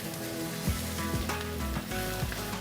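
Rice coated in curry powder sizzles in a hot frying pan for nasi kebuli, a steady frying hiss broken by a few scraping stirs of the spoon.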